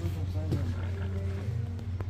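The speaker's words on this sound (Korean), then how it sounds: "여기도 호랑이 있네." A tiger's roar at a Santa village attraction rumbles low and steady for about two seconds, loud and close, likely a recorded display with background noise.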